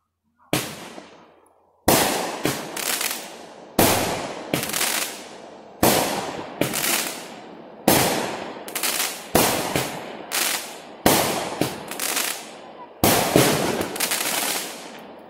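Fourth of July fireworks exploding close by, a loud series of about eight sharp blasts at roughly two-second intervals, each followed by a crackling tail, with no other sound between them.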